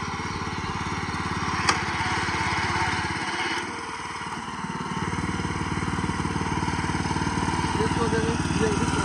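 A 6.5 hp, 18-inch-wide weeder engine runs steadily nearby in a field, with a constant loud mid-range drone that dips briefly before revving back up; a voice is heard over it.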